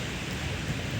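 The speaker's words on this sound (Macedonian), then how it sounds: "врне дожд, не е многу силен" Steady rain falling continuously over a town square in Prilep, a dense even hiss that holds at the same level throughout, with no voices.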